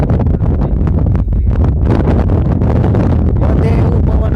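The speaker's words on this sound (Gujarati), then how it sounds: "બધે એવું પવન આવતી કઈ મજા આવતી નથી નકરો ઘોંઘાટ જ આવે છે" Strong wind blows across an open farm field at sowing time, loud gusty buffeting and roaring against the microphone throughout, with a voice faintly underneath.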